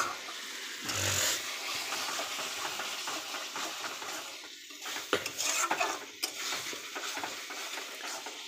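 Fried fish being stirred into cooked spice paste in a pan, metal utensil scraping and clinking against the pan in irregular strokes over a low sizzle, close by, no talking.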